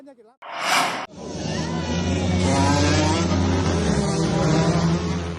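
Motocross motorcycles race at a circuit for the West Papua Governor's Cup championship, a loud, continuous high-revving engine roar after a brief burst of noise, with a voice talking over it.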